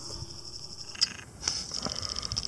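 Frogs croaking together in a morning chorus at a pond, a steady high trill with a few louder calls rising out of it, heard alone outdoors.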